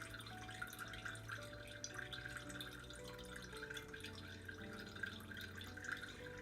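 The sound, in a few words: last drops of milk draining off homemade butter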